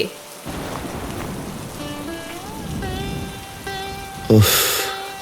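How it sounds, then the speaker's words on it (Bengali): Heavy rain pours steadily outside during a stormy day in a cartoon, with soft musical tones over the downpour and a sharp thunder-like crack near the end. "দেখো বাইরে কি জোরে বৃষ্টি হচ্ছে।"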